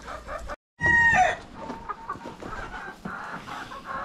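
A rooster crows loudly and close by on a farm, a single strained call, followed by softer clucking and farmyard bird sounds.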